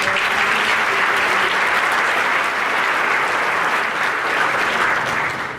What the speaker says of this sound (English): another hand clap for Mr. Cramp and Mr.